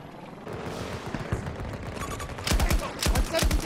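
Gunfire in the shooter Battlefield 2042 during a chaotic Breakthrough match, with scattered distant shots giving way to loud, rapid automatic bursts of close fire near the end, packed and rattling.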